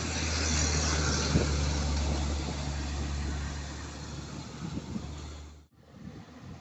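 Isuzu Giga dump truck engine climbing an extreme incline, a loud deep rumbling drone close by that holds steady, then cuts off sharply near the end, leaving a quieter background.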